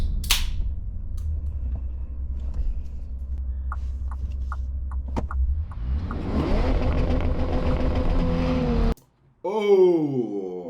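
A Bentley W12 revs hard and surges forward on the Autobahn, its engine note rising through loud, sustained acceleration, then a brief gap before another steep, climbing pull at high speed.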